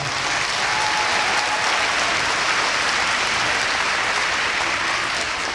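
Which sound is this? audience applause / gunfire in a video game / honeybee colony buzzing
audience applause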